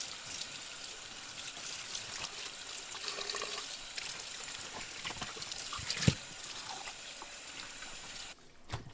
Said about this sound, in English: rinse it with some cold water